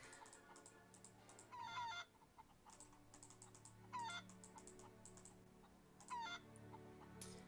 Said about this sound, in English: I love holding the chickens.